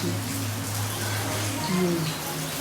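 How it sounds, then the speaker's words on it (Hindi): Heavy rain falls in a steady, dense hiss, with a low hum running beneath it and a faint voice briefly audible in the background. "मूसलाधार बारिश चल रही है"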